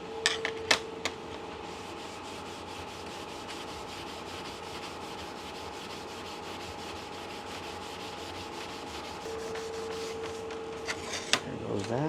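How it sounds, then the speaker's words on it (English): A surface is sanded by hand with a steady, soft, continuous rubbing that runs close and even throughout, with a few light knocks at the start and end. "what I'll do is I'll give it a nice little sand"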